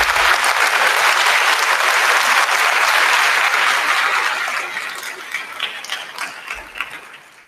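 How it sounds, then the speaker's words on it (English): A large audience at a school county band concert applauds loudly and steadily, the clapping holding strong before gradually thinning and fading toward the end. "give them a big round of applause, please."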